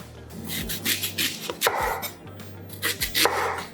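A knife chops parsnips into small blocks on a cutting board in a home kitchen, with quick bursts of sharp, close chopping taps broken by short pauses.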